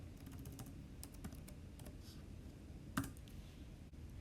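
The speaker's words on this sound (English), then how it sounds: "So I'm going to, in here, type in 2015." Keystrokes on a computer keyboard entering a year into a search field, a quiet scatter of soft clicks across a few seconds, faint and close against a low background hum.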